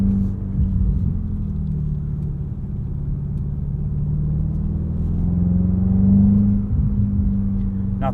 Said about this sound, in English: A little bit of piped in engine noise there in sport mode.